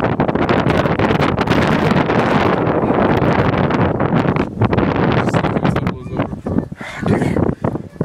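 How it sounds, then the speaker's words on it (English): Strong wind roaring and buffeting the microphone in loud continuous gusts that ease in places near the end, with a voice speaking beneath it. "Oh god, it's still really windy."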